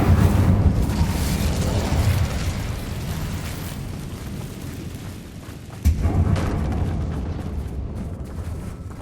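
A fire spell cast in the Hogwarts Legacy game roars as a loud, sustained burst of flame, fading slowly and then flaring again in a second sharp whoosh partway through.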